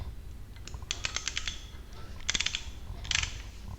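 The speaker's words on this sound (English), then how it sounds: "we can start tightening from the top" Bike shock and bolt assembly being tightened from the top with a spanner: bursts of quick metallic ratchet clicks in three clusters, close and fairly crisp, with no talking.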